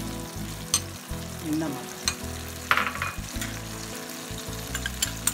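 Spices fry in oil for a Pakistani fish curry, sizzling loudly and close up while a spoon scrapes and stirs the pan in bursts, with a single spoken word briefly heard.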